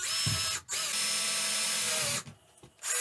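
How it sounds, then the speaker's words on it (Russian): A power drill bores through the centre of plastic bottle caps. A short burst is followed by a long steady whir up close, then a brief pause and a restart at the end. "По центру сверлим отверстие."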